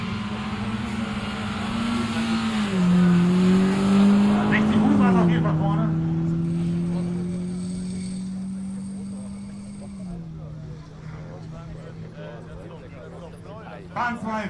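Audi A1 1.4 TFSI and a Golf 5 GTI launching down a quarter-mile drag strip, a loud droning engine note rising through gears and then fading as the cars pull away, with voices talking over it.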